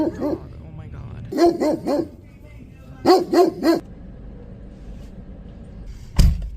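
Dog behind a fence barking in two quick bursts of three or four sharp barks each, fairly close, followed later by a single louder bark, with quiet stretches between.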